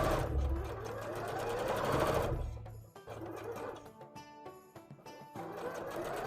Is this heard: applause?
no